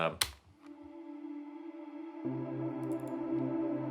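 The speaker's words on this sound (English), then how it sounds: "atmosphere loop I have, which is this kind of vocal pad thing" A sustained, airy synth-like vocal pad hums steadily, shifting to a fuller, lower chord partway through after a brief sharp click at the start.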